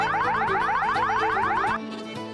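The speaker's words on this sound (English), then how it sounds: "When you apply voltage, it makes this loud beeping sound." A tiny speaker powered by a coin cell battery sounds a loud, fast electronic alarm of rapidly repeating rising chirps, which cuts off abruptly near the end, leaving a quieter hum.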